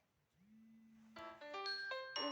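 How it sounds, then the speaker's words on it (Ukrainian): A short electronic melody of bright, clear tones rises note by note after a brief low hum, like an alarm starting to ring. "будильник знову дзвонить"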